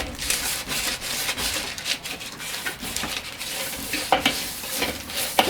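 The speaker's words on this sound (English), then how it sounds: "So just cut a nice onion and give it a rub like this." A freshly cut onion half is rubbed across a hot grill grate over an open fire, giving a close, continuous sizzle with rhythmic scraping strokes and no talking.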